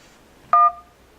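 A Samsung Droid Charge phone on Verizon sounds a single short dual-tone dialing beep, loud and clean against near silence, with no talk.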